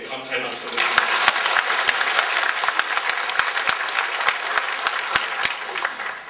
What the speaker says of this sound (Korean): 우리를 구원하신 주님께 감사의 박수를 드립니다.